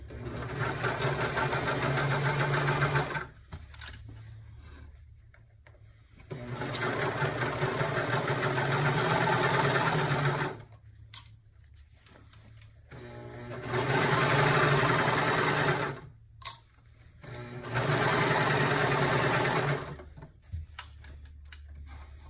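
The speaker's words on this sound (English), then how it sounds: "I decided just to go ahead and serge this piece as well, just because it gives me that good strong seam" A serger overlock machine stitches a seam on a car trash bag, its fast mechanical whir running in four long bursts with short pauses between, close and steady.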